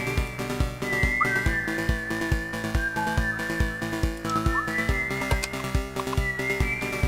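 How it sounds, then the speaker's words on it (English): A person whistles a lively melody in a Stardew Valley gameplay session, the long sliding tones carried over steady plucked and rhythmic game music throughout. "Let's get our whistle on."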